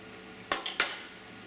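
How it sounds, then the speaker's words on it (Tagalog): Utensil stirring tuna sarciado in a pan, giving three quick metallic scrapes and clinks close by against a quiet kitchen background. "hahaluin lang natin ito"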